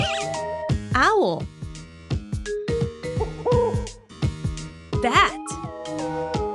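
Hoots from a cartoon owl in a kids' nocturnal-animal sorting game, sounding repeatedly between jingles, swoops and other animated animal noises, loud and close.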